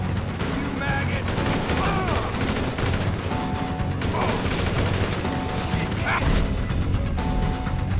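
Video-game gunfire and weapon reloading in GTA V, a dense busy mix of shots, mechanical clicks and impacts running continuously with music-like tones underneath.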